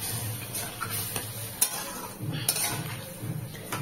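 A spatula scrapes and clinks in a pan of pointed gourd curry cooked down with a little water, giving close, irregular stirring taps and scuffs over a faint simmering sizzle.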